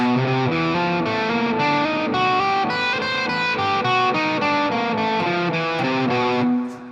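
An open, ringing distorted electric guitar plays a steady chugging riff with sustained notes, loud and continuous.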